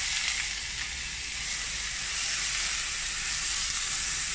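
Onion sizzles steadily in butter or ghee in a pan, a continuous close frying hiss with no talk over it.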